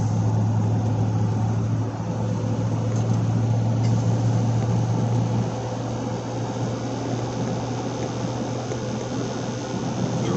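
A 2016 Chevy Silverado 5.3 pickup with Borla exhaust and a P0300 misfire code idles with a deep, steady exhaust rumble and a low constant hum, heard close up and unchanging throughout.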